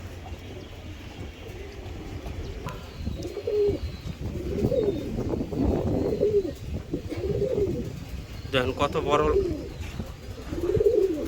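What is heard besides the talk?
Giribaz pigeons cooing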